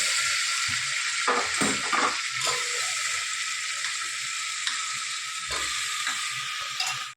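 Vegetables go into hot oil in a pan with bay leaf and garlic chutney, a steady close sizzle broken by spoon scrapes and clatters as they are stirred, no talking.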